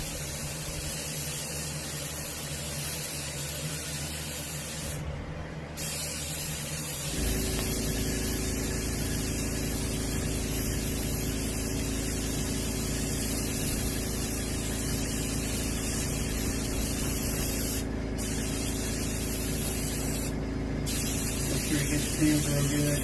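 Base coat sealer sprayed over a rockfish (striped bass) skin mount, a steady continuous hiss of aerosol or airbrush spray that runs almost unbroken, close and fairly loud, with a few brief pauses.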